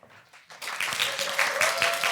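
Audience of new public officials at a lecture breaking into applause and cheering, a dense wash of clapping that swells after a quiet start and stays loud and steady.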